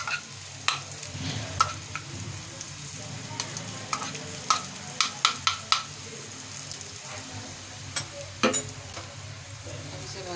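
Cumin seeds sizzle in hot oil for Dhaba-style mash ki daal, a steady frying hiss broken by repeated sharp clinks and scrapes of stirring in the pot.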